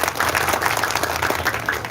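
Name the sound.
applause from the audience at a meeting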